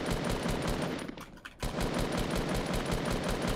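Rapid automatic gunfire from the Fortnite video game, a steady dense burst that briefly drops out near the middle before resuming loud and continuous, with no talk over it.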